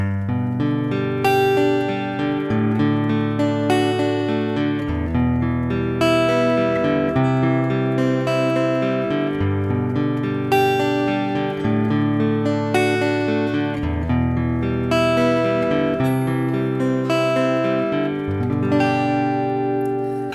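An acoustic guitar strums chords in a steady progression, each chord changing every couple of seconds, loud and close with no voices.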